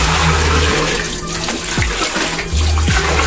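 Cold water pours from a kettle in a strong continuous splashing stream, loud and close, with a few gurgling shifts as the flow changes.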